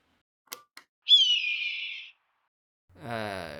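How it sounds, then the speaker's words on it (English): A couple of faint clicks, then a long, harsh descending raptor scream, followed after a pause by a second piercing call, loud and clear. "No, that was the red-tailed hawk."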